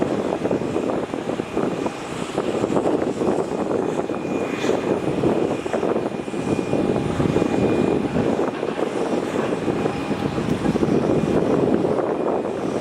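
A passenger airliner landing at Melbourne Airport, a loud, steady engine roar filling the whole stretch with broad rumbling noise and no voices.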